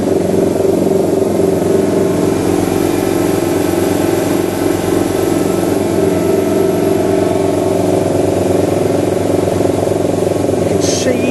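The auxiliary drives of an Emco 325 II CNC lathe running with a steady, loud, close mechanical hum and fine regular whirring, holding constant for the whole stretch with no voices.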